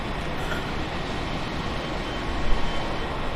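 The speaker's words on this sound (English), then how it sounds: "Attention please. A train is approaching." A train approaches a station platform with a dense, steady rumble and roar filling the space, loud and continuous, with a brief swell near the end.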